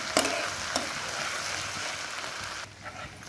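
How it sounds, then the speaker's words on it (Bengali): Ginger garlic paste fries in oil in a pan, a steady close hiss and sizzle with a couple of sharp spatula clicks, no voices. "এবার ভালোভাবে কিন্তু আর একটু ভেজে নেব, আদা রসুনের জন্য কাঁচা গন্ধটা না থাকে।"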